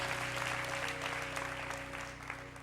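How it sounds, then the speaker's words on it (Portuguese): A church congregation at an evening service applauds together, a loud, steady wash of clapping with a faint sustained instrumental tone humming underneath throughout. "Dê um forte aplauso ao Senhor e fique de pé no seu lugar."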